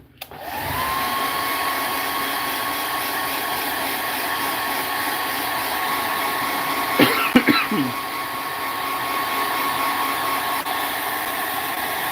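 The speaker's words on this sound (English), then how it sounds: "there's the hairdryer." A hair dryer switches on and runs with a steady, loud whirring hum throughout, briefly interrupted midway by a cough.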